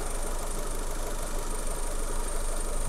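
A Mitsubishi Lancer IX with a 1.6 4G18 engine idles steadily after being revved, an even mechanical hum with a high whine, heard close and alone.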